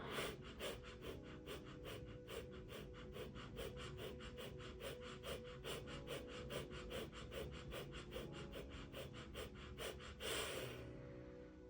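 Rapid fire breaths in a breathing exercise set, a fast, steady train of sharp rhythmic exhalations repeating for about ten seconds before stopping, with a final settling breath.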